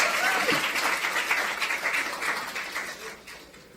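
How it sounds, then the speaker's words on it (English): A crowd at a youth awards ceremony applauds warmly, dense steady clapping that gradually fades over a few seconds, with a faint voice underneath. "Give my orators a round of applause, please."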